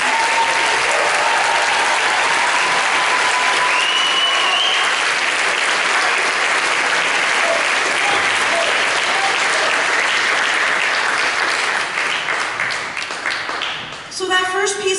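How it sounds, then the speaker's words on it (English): An audience applauds a concert band: continuous, loud, full-room clapping lasting well over ten seconds, then thinning and tapering off near the end. "Can you give them another round of applause?"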